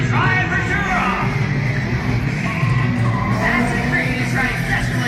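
Race cars at a live stunt show start off with tires squealing and skidding under a loud, steady engine roar, while an announcer talks over the action.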